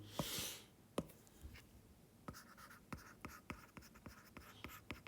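Marker or chalk writing on a board during a math lesson: a burst of scratchy scribbling followed by a string of sharp taps and short strokes in an irregular rhythm, close and quiet, with no speech.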